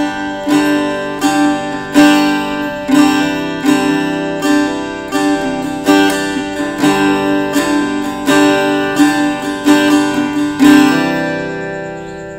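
Guitar being picked in an easy, steady pattern, with bright plucked chords struck roughly once a second and ringing close and clear on their own, without any talking.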